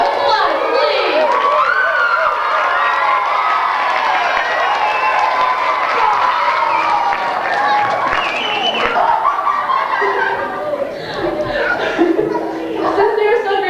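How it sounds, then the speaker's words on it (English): A ward party crowd claps and cheers after a speech, with children shouting, chuckles and voices mixed into the steady applause throughout. "Applause, please."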